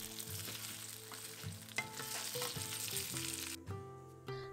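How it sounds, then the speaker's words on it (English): Cubed potatoes sizzle steadily in hot oil in a kadai, a continuous frying hiss with occasional stirring, under soft background music. "In a kadai, add oil and drop the cut potatoes"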